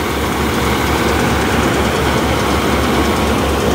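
A Massey Ferguson 5245 Maha Maha tractor engine drives a mustard threshing machine, a loud steady diesel drone with a rhythmic low pulse and dense mechanical roar throughout.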